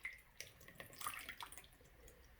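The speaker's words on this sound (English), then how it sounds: "you just pour a little bit of water in, swirl it around," Water is poured into a sprouting jar and swirled around, making soft, close sloshing and trickling splashes that rise briefly and then taper off, quiet and without any voices.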